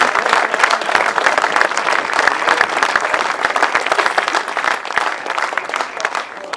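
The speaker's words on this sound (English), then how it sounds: "big round of applause for Paul Hurry" An audience at the 2022 European Grasstrack solo final meeting applauds in a steady, dense wash of clapping that holds for the full stretch without a break.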